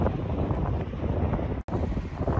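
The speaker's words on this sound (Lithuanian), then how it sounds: "labai vėjuotai šiandien." Strong wind buffets the microphone in a steady, roaring rush, with a brief dropout near the end before the gusting resumes.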